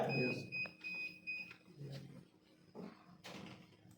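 An alarm on a PLC compressor circuit demo beeps in several short, steady electronic tones early on, and someone speaks over it and after it.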